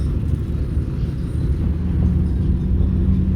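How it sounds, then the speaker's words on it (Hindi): Road traffic in Karachi heard from inside a moving car, a loud steady low engine and road rumble with no talking. "तो भाई इतनी ज़्यादा ट्रैफिक हो रही है।"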